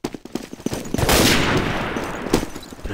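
Gunfire in the World War II shooter Day of Defeat: Source: a few sharp shots early, then a loud, dense stretch of sustained firing that fills the rest of the moment without fading.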